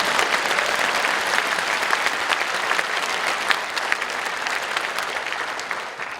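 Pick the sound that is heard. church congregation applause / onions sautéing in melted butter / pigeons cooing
church congregation applause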